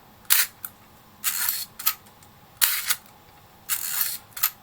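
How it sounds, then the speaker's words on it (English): An Exa 1a camera's vertically running cloth focal-plane shutter fires repeatedly, crisp mechanical snaps in quick pairs and bursts separated by short pauses, close and clear with no talk. "this focal plane shutter, although it's a cloth blind shutter, runs vertically rather than horizontally"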